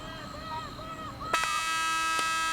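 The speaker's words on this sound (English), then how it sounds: "there's the buzzer for the end of the first half of play" A loud electronic buzzer at a field hockey game at Lawrence Cardinal Stadium marks the end of the first half. It cuts in sharply partway through and holds steady to the end over faint background ambience.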